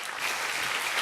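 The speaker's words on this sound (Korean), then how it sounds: "큰 박수로 축하해" A brief moment of congregation clapping at a church award plaque ceremony, a short dense patter of many hands heard from a little distance.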